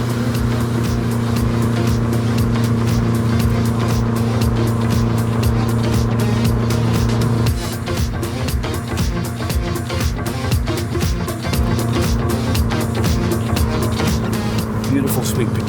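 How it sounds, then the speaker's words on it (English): A Lancia Delta Integrale Evo II climbing a curvy hill road, heard from inside the cabin: loud, sustained engine drone whose pitch steps down midway as the throttle changes, with someone talking over it throughout. "you can basically drive the car entirely with the gas pedal"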